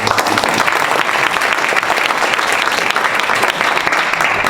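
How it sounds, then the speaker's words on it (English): Audience at a school district Board of Education meeting applauding a student being recognized: dense, steady clapping from a full room, sustained evenly throughout with no voices over it. "So you can clap for Lucy"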